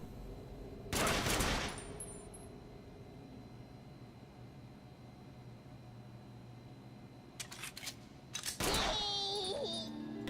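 Bursts of video game gunfire aimed at a wall, two loud dense volleys separated by several seconds of quieter background hum, the second burst followed by tonal game effects.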